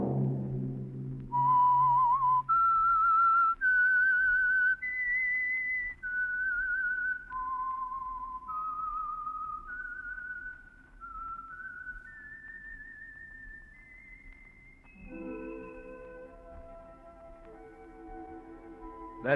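A lone whistler carries the eerie theme melody of The Whistler radio mystery program, a slow rising and falling tune of sustained notes, clear and close, closing into a swelling orchestral chord.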